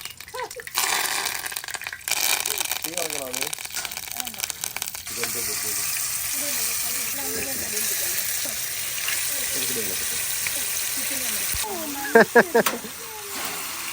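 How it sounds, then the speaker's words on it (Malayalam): Spanish mackerel frying in hot oil in a pan: a steady, close hiss and sizzle running continuously, with voices talking over it and a few sharper pops toward the end. "സ്പാനിഷ് മാക്രൽ ഫ്രൈ എണ്ണ ചൂടായി"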